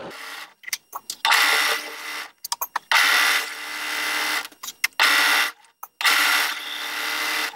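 A home sewing machine hems a knit top in bursts of steady, whirring stitching, close and loud, broken by short pauses and clicks as the needle is sunk and the fabric turned at corners.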